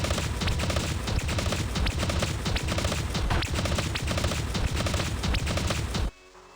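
Machine gun fire in the video game Dragon Raja, a dense, loud, unbroken burst of rapid shots over steady game music, cutting off abruptly near the end.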